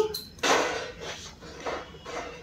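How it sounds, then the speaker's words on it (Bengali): Puja utensils being washed, metal dishes and pots knocking together in a few clattering bursts, close and moderately loud, with quieter clinks between. "দিদি এখানে পুজোর বাসনগুলো ধুয়ে রাখছে"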